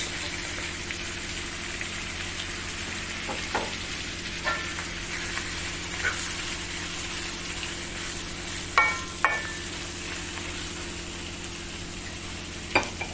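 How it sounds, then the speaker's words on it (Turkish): Sac kavurma meat with chopped tomato sizzles steadily in a pan, a close and even frying hiss broken by a few sharp clinks of a utensil stirring. "Biraz da domatesiyle pişmeye bırakıyoruz."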